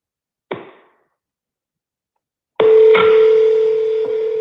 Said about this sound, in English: I'm gonna call the one in Dallas first, being the local number